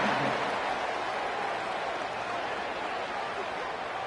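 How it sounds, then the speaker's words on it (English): Football stadium crowd at an Alabama versus Arkansas game, a dense, steady roar of many voices and scattered clapping after a score, distant and unbroken for the whole stretch. "this crowd is buzzing after that last score"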